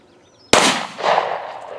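One sharp gunshot from a Ruger LC9S pistol cracks out close and loud after a near-silent moment, followed by a short echoing decay.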